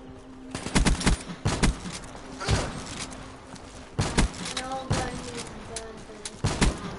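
Minecraft gunfire in bursts of rapid shots, several clustered volleys with pauses between them, loud and close, with a voice speaking briefly among the shots.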